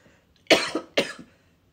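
A woman sick with COVID-19 coughs twice in quick succession, close and fairly loud, each cough a sharp burst followed by a short rasping tail, with silence around them.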